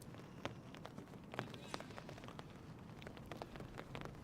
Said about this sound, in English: the rain has started to fall a little bit again. We can hear the spits on the roof of our